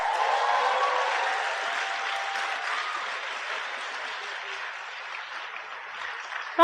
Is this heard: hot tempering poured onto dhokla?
no